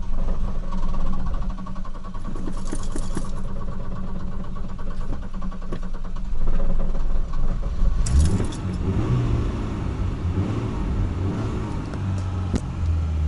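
A BMW E30 engine runs steadily and is revved up several times with the fuel injector plug pulled off, the engine note rising and falling, loud and close throughout.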